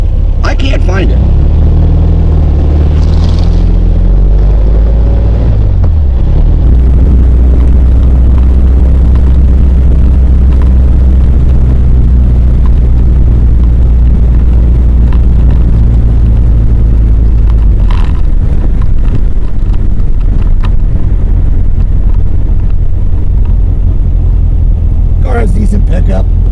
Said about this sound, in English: Car has decent pickup, shifts nicely.